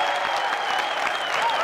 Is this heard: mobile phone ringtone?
no